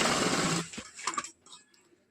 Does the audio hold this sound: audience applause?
no